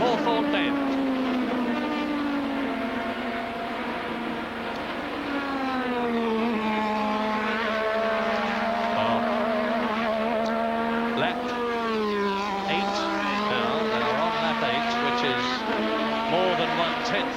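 Mid-1980s Formula 1 race cars at the 1986 British Grand Prix scream past on a fast downhill section, their high engine wail rising and falling steadily across the full stretch with a commentator talking over it.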